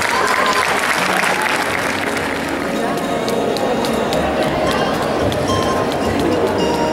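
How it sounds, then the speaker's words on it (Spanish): Loud, sustained applause from a crowd at a 2015 graduation ceremony, sending off the fourth-year class, with steady clapping filling the hall and voices and babble mixed underneath. "Despidamos al cuarto año y con un fuerte aplauso."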